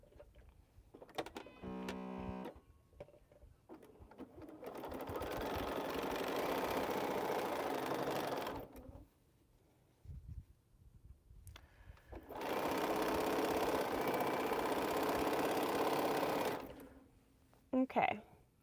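Sewing machine stitching quilt pieces, two long steady runs of whirring motor and needle clatter separated by pauses, close and clear, with brief handling noises between.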